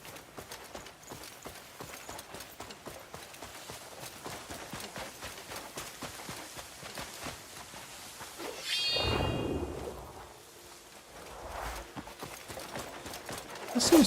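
Horse hooves clip-clop in the video game Crimson Desert, a fast, running rhythm of light hoofbeats at moderate volume, followed by a louder whooshing swell.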